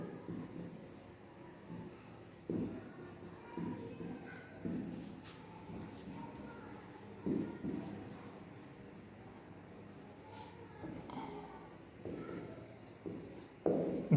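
Pen or chalk writing out a physics example during a Class 12 Coulomb's law lesson, a soft, faint scratching in short strokes with pauses between them over a low room hum, and no speech.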